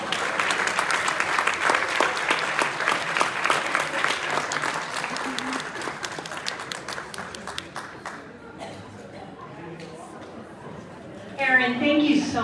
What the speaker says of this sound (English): Can we give Aaron a wonderful round of applause?